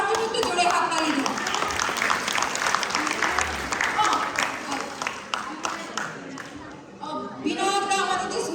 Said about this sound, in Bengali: তো প্লিজ একটু সবার জন্য একটু জোরে হাততালি দিন।